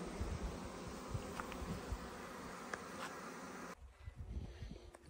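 Honeybees swarm over an opened hive of about three frames, their buzzing a dense, continuous drone close to the microphone that drops in level suddenly near the end and carries on quieter.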